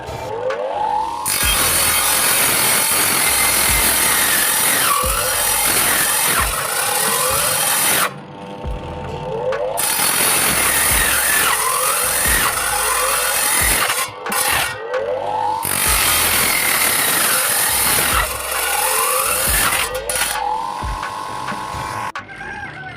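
A power cutting tool sawing through small pieces of coconut shell for making rings, a loud continuous grinding whine in three long bursts separated by brief pauses, with no talking.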